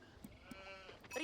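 Sheep in the real-time strategy game Age of Empires bleat in short, thin, synthetic calls, several brief cries spaced across the moment over a low game ambience.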